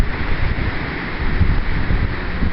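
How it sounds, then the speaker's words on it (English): Strong gusting wind blowing across a berry garden in Western New York, a rough continuous rumble buffeting the microphone with swells and lulls, no voices. "at the moment I got wind,"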